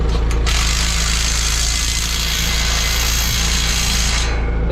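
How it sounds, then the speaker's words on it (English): A power tool runs loud and steady, driving a bolt and nut tight on a metal cross member of a hoop building frame at night, a continuous motor whine with no pauses. "I'm putting the first one on and then sucking it down with the bolt and the nut"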